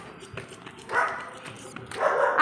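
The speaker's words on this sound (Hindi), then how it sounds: "देखते ऐसे भौंकते जैसे कोई जानते ही नहीं हो" Dogs barking on a street, two louder bursts of barking standing out over steady background noise and some nearby talk.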